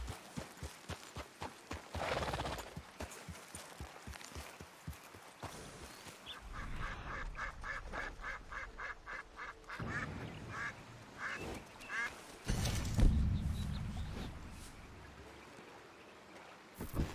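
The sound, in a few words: ducks quacking, birds in video game Red Dead Redemption 2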